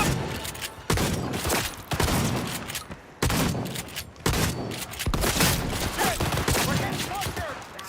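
Shotgun blasts in the video game Cyberpunk 2077, a run of heavy booming shots spaced roughly a second apart, each with a sharp attack and rumbling tail, loud and close over continuous game noise.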